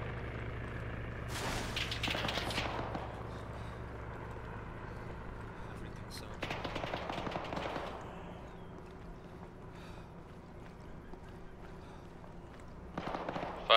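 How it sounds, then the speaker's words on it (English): Bursts of minigun fire in the military video game Arma 3 come in three separate stretches, loud buzzing volleys over a low engine hum, with voices talking faintly in between. "Why does this minigun sound so fucking weird?"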